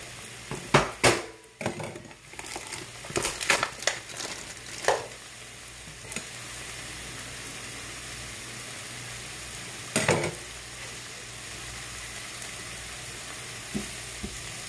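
Sausage browning in a pan with sofrito on Nacho Night gives a steady, fairly quiet sizzle throughout, broken early by several sharp clatters and stirring scrapes, with one more clunk near the middle and a faint tap near the end.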